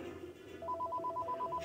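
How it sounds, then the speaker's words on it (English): A telephone rings in a steady repeating electronic trill in the video game Feeding Frenzy 2, starting partway through and continuing to the end, clear over quiet game background. "There goes the phone, see?"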